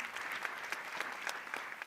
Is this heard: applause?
yes